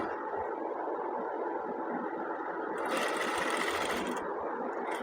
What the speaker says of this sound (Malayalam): ഇത് നമുക്ക് ഇങ്ങനെ മേലിൽ നിന്ന് ചെറിയതായിട്ടൊരു ടോപ്പ് സ്റ്റിച്ച് കൊടുത്തേക്കാവേ.